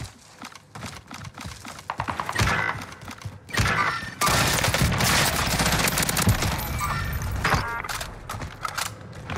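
FFAR 1 assault rifle fire in the Warzone video game comes in loud, rapid bursts, with a short gap before a long sustained volley close up.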